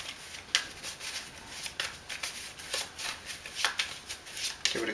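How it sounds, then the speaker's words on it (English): Location cards from the Zombie Apocalypse dice game are shuffled by hand, a close, quiet series of crisp riffling bursts repeating every second or so, with no talk. "Give it a good shuffle."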